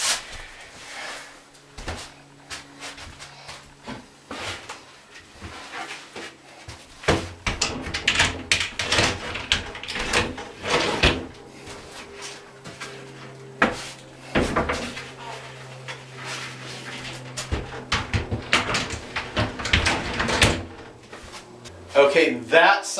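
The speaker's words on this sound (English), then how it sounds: "let's put those drawers in" Wooden drawers are slid into a cabinet in a rabbit hutch build, giving a series of scraping slides and hollow knocks and thumps in irregular bursts, with a person talking now and then between them.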